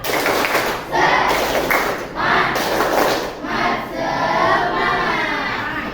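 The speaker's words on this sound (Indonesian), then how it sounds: "Tepuk semangat." A school class doing a rhythmic 'tepuk semangat' clap routine, patterned bursts of clapping mixed with students chanting loudly together in a noisy room.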